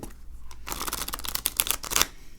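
A tarot card deck being shuffled, a dense burst of rapid crisp riffling clicks lasting under two seconds, close and fairly quiet.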